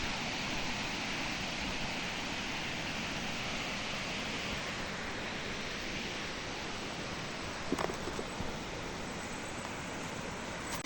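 Water flows at Sirispal Dam in Keonjhar, Odisha, as a steady, broad rushing noise that stays constant, with a faint brief clatter near the end.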